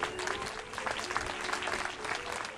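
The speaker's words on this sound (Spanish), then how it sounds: "un aplauso para don Daniel." An audience at a municipal mayor's address gives Don Daniel a short burst of dense, steady clapping that fills the whole moment.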